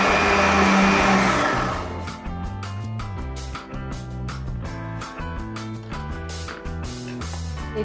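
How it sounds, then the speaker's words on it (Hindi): A mixer grinder blends cooled gravy masala for butter chicken into a smooth paste, a loud whirring burst at first that settles into a steady, nearer motor drone with a rhythmic pulsing churn, no voices. "अब इसको मिक्सर जार में डाल के और पेस्ट बनानी है।"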